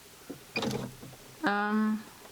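A sewing machine stitching fabric for Barbie doll clothes gives a short whirring run of about half a second with a steady tonal hum, after an earlier burst of handling noise, close and fairly loud.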